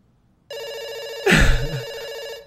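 In a video game phone call, an electronic telephone ring sounds steadily and loudly, with a brief low thump or rumble partway through the ring before it fades out.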